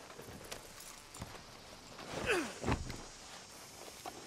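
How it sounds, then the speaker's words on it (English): A horse walking in the video game Red Dead Redemption 2, soft hoof clops and a breathy snort at a moderate distance, faint and brief, with no talking. "Load Anders onto the back of your horse there, and we'll take him to Sheriff Gray."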